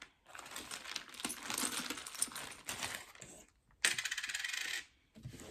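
Several coins set down one after another on a table, a quick run of bright metallic clinks and taps with short pauses, close and fairly quiet.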